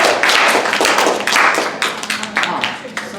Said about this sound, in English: So, one more time, round of applause